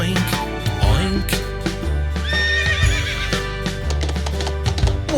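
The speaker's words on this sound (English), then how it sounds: "What is it? It's a horse!" Horse neighing over a busy children's farm-animal song, a clear whinny rising above bouncy music with clip-clop hoofbeats and bright backing instruments throughout.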